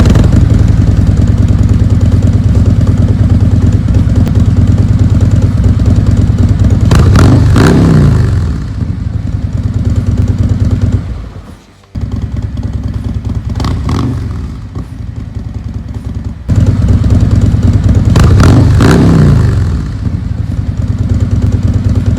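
Harley-Davidson Milwaukee 8 V-twin fitted with a Big City Thunder exhaust, loud and close, rumbling at idle and then blipped through three sharp revs that swell and fall back, with a brief dip between them.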